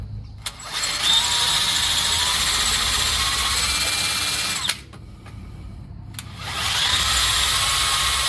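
A power drill bores into a stuck torsion bar key on a 2001–2010 GM/GMC 2500HD truck during a lift kit install, whining loud and steady in two bursts separated by a short pause.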